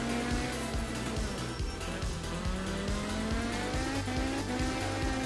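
A rally car in art of rally drives over snow, its engine droning steadily with rising revs and tyre scrub throughout, fairly loud and continuous with no voices.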